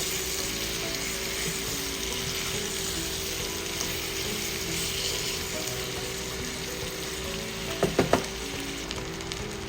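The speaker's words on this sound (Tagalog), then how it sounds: "Igigisa lang natin yan ng mga 8 to 10 minutes" Chicken legs, thighs and wings sauté in a hot pan with a steady, even sizzle throughout, joined near the end by a few brief utensil clinks.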